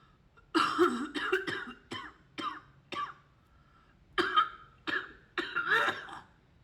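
A run of about eight sharp, close coughs in irregular bursts, some coming in quick pairs, separated by short quiet gaps.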